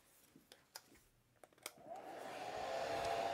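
A hair dryer switches on and runs with a rising, steady whoosh to dry a watercolor painting, preceded by a few soft clicks and handling taps.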